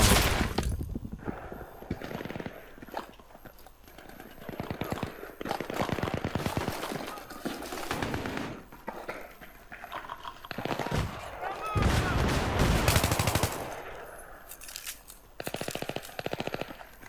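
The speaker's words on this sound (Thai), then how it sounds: "กูยิงมั่วกูยิงเพื่อนตัวเอง" Bursts of automatic gunfire and single shots crack through a Battlefield 3 multiplayer match, coming in irregular volleys of varying loudness while a player talks excitedly.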